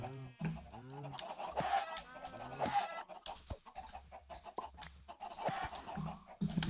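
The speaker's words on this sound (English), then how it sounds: "it's just 3 chickens" Three chickens in Minecraft cluck repeatedly in the game's choppy bird calls, several overlapping clucks and squawks at close range with game sounds in between.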